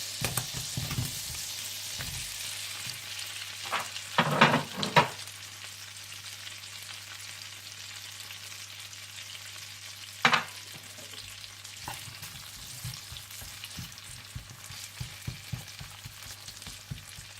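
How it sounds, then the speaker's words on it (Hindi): Potatoes frying in a pan for a Spanish omelette, a steady close sizzle with occasional scraping stir sounds and clinks over a low hum. "फिर इसमें आलू डालकर पकाएं जब तक कि आलू अच्छी तरह से गल जाए और हल्के से ब्राउन होने लगे"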